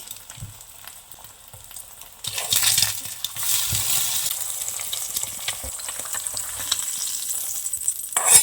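An egg poaching in a pan with a little salt and chicken masala sizzles quietly at first. Then the frying swells into a loud, steady crackle with light scraping stirs and small taps.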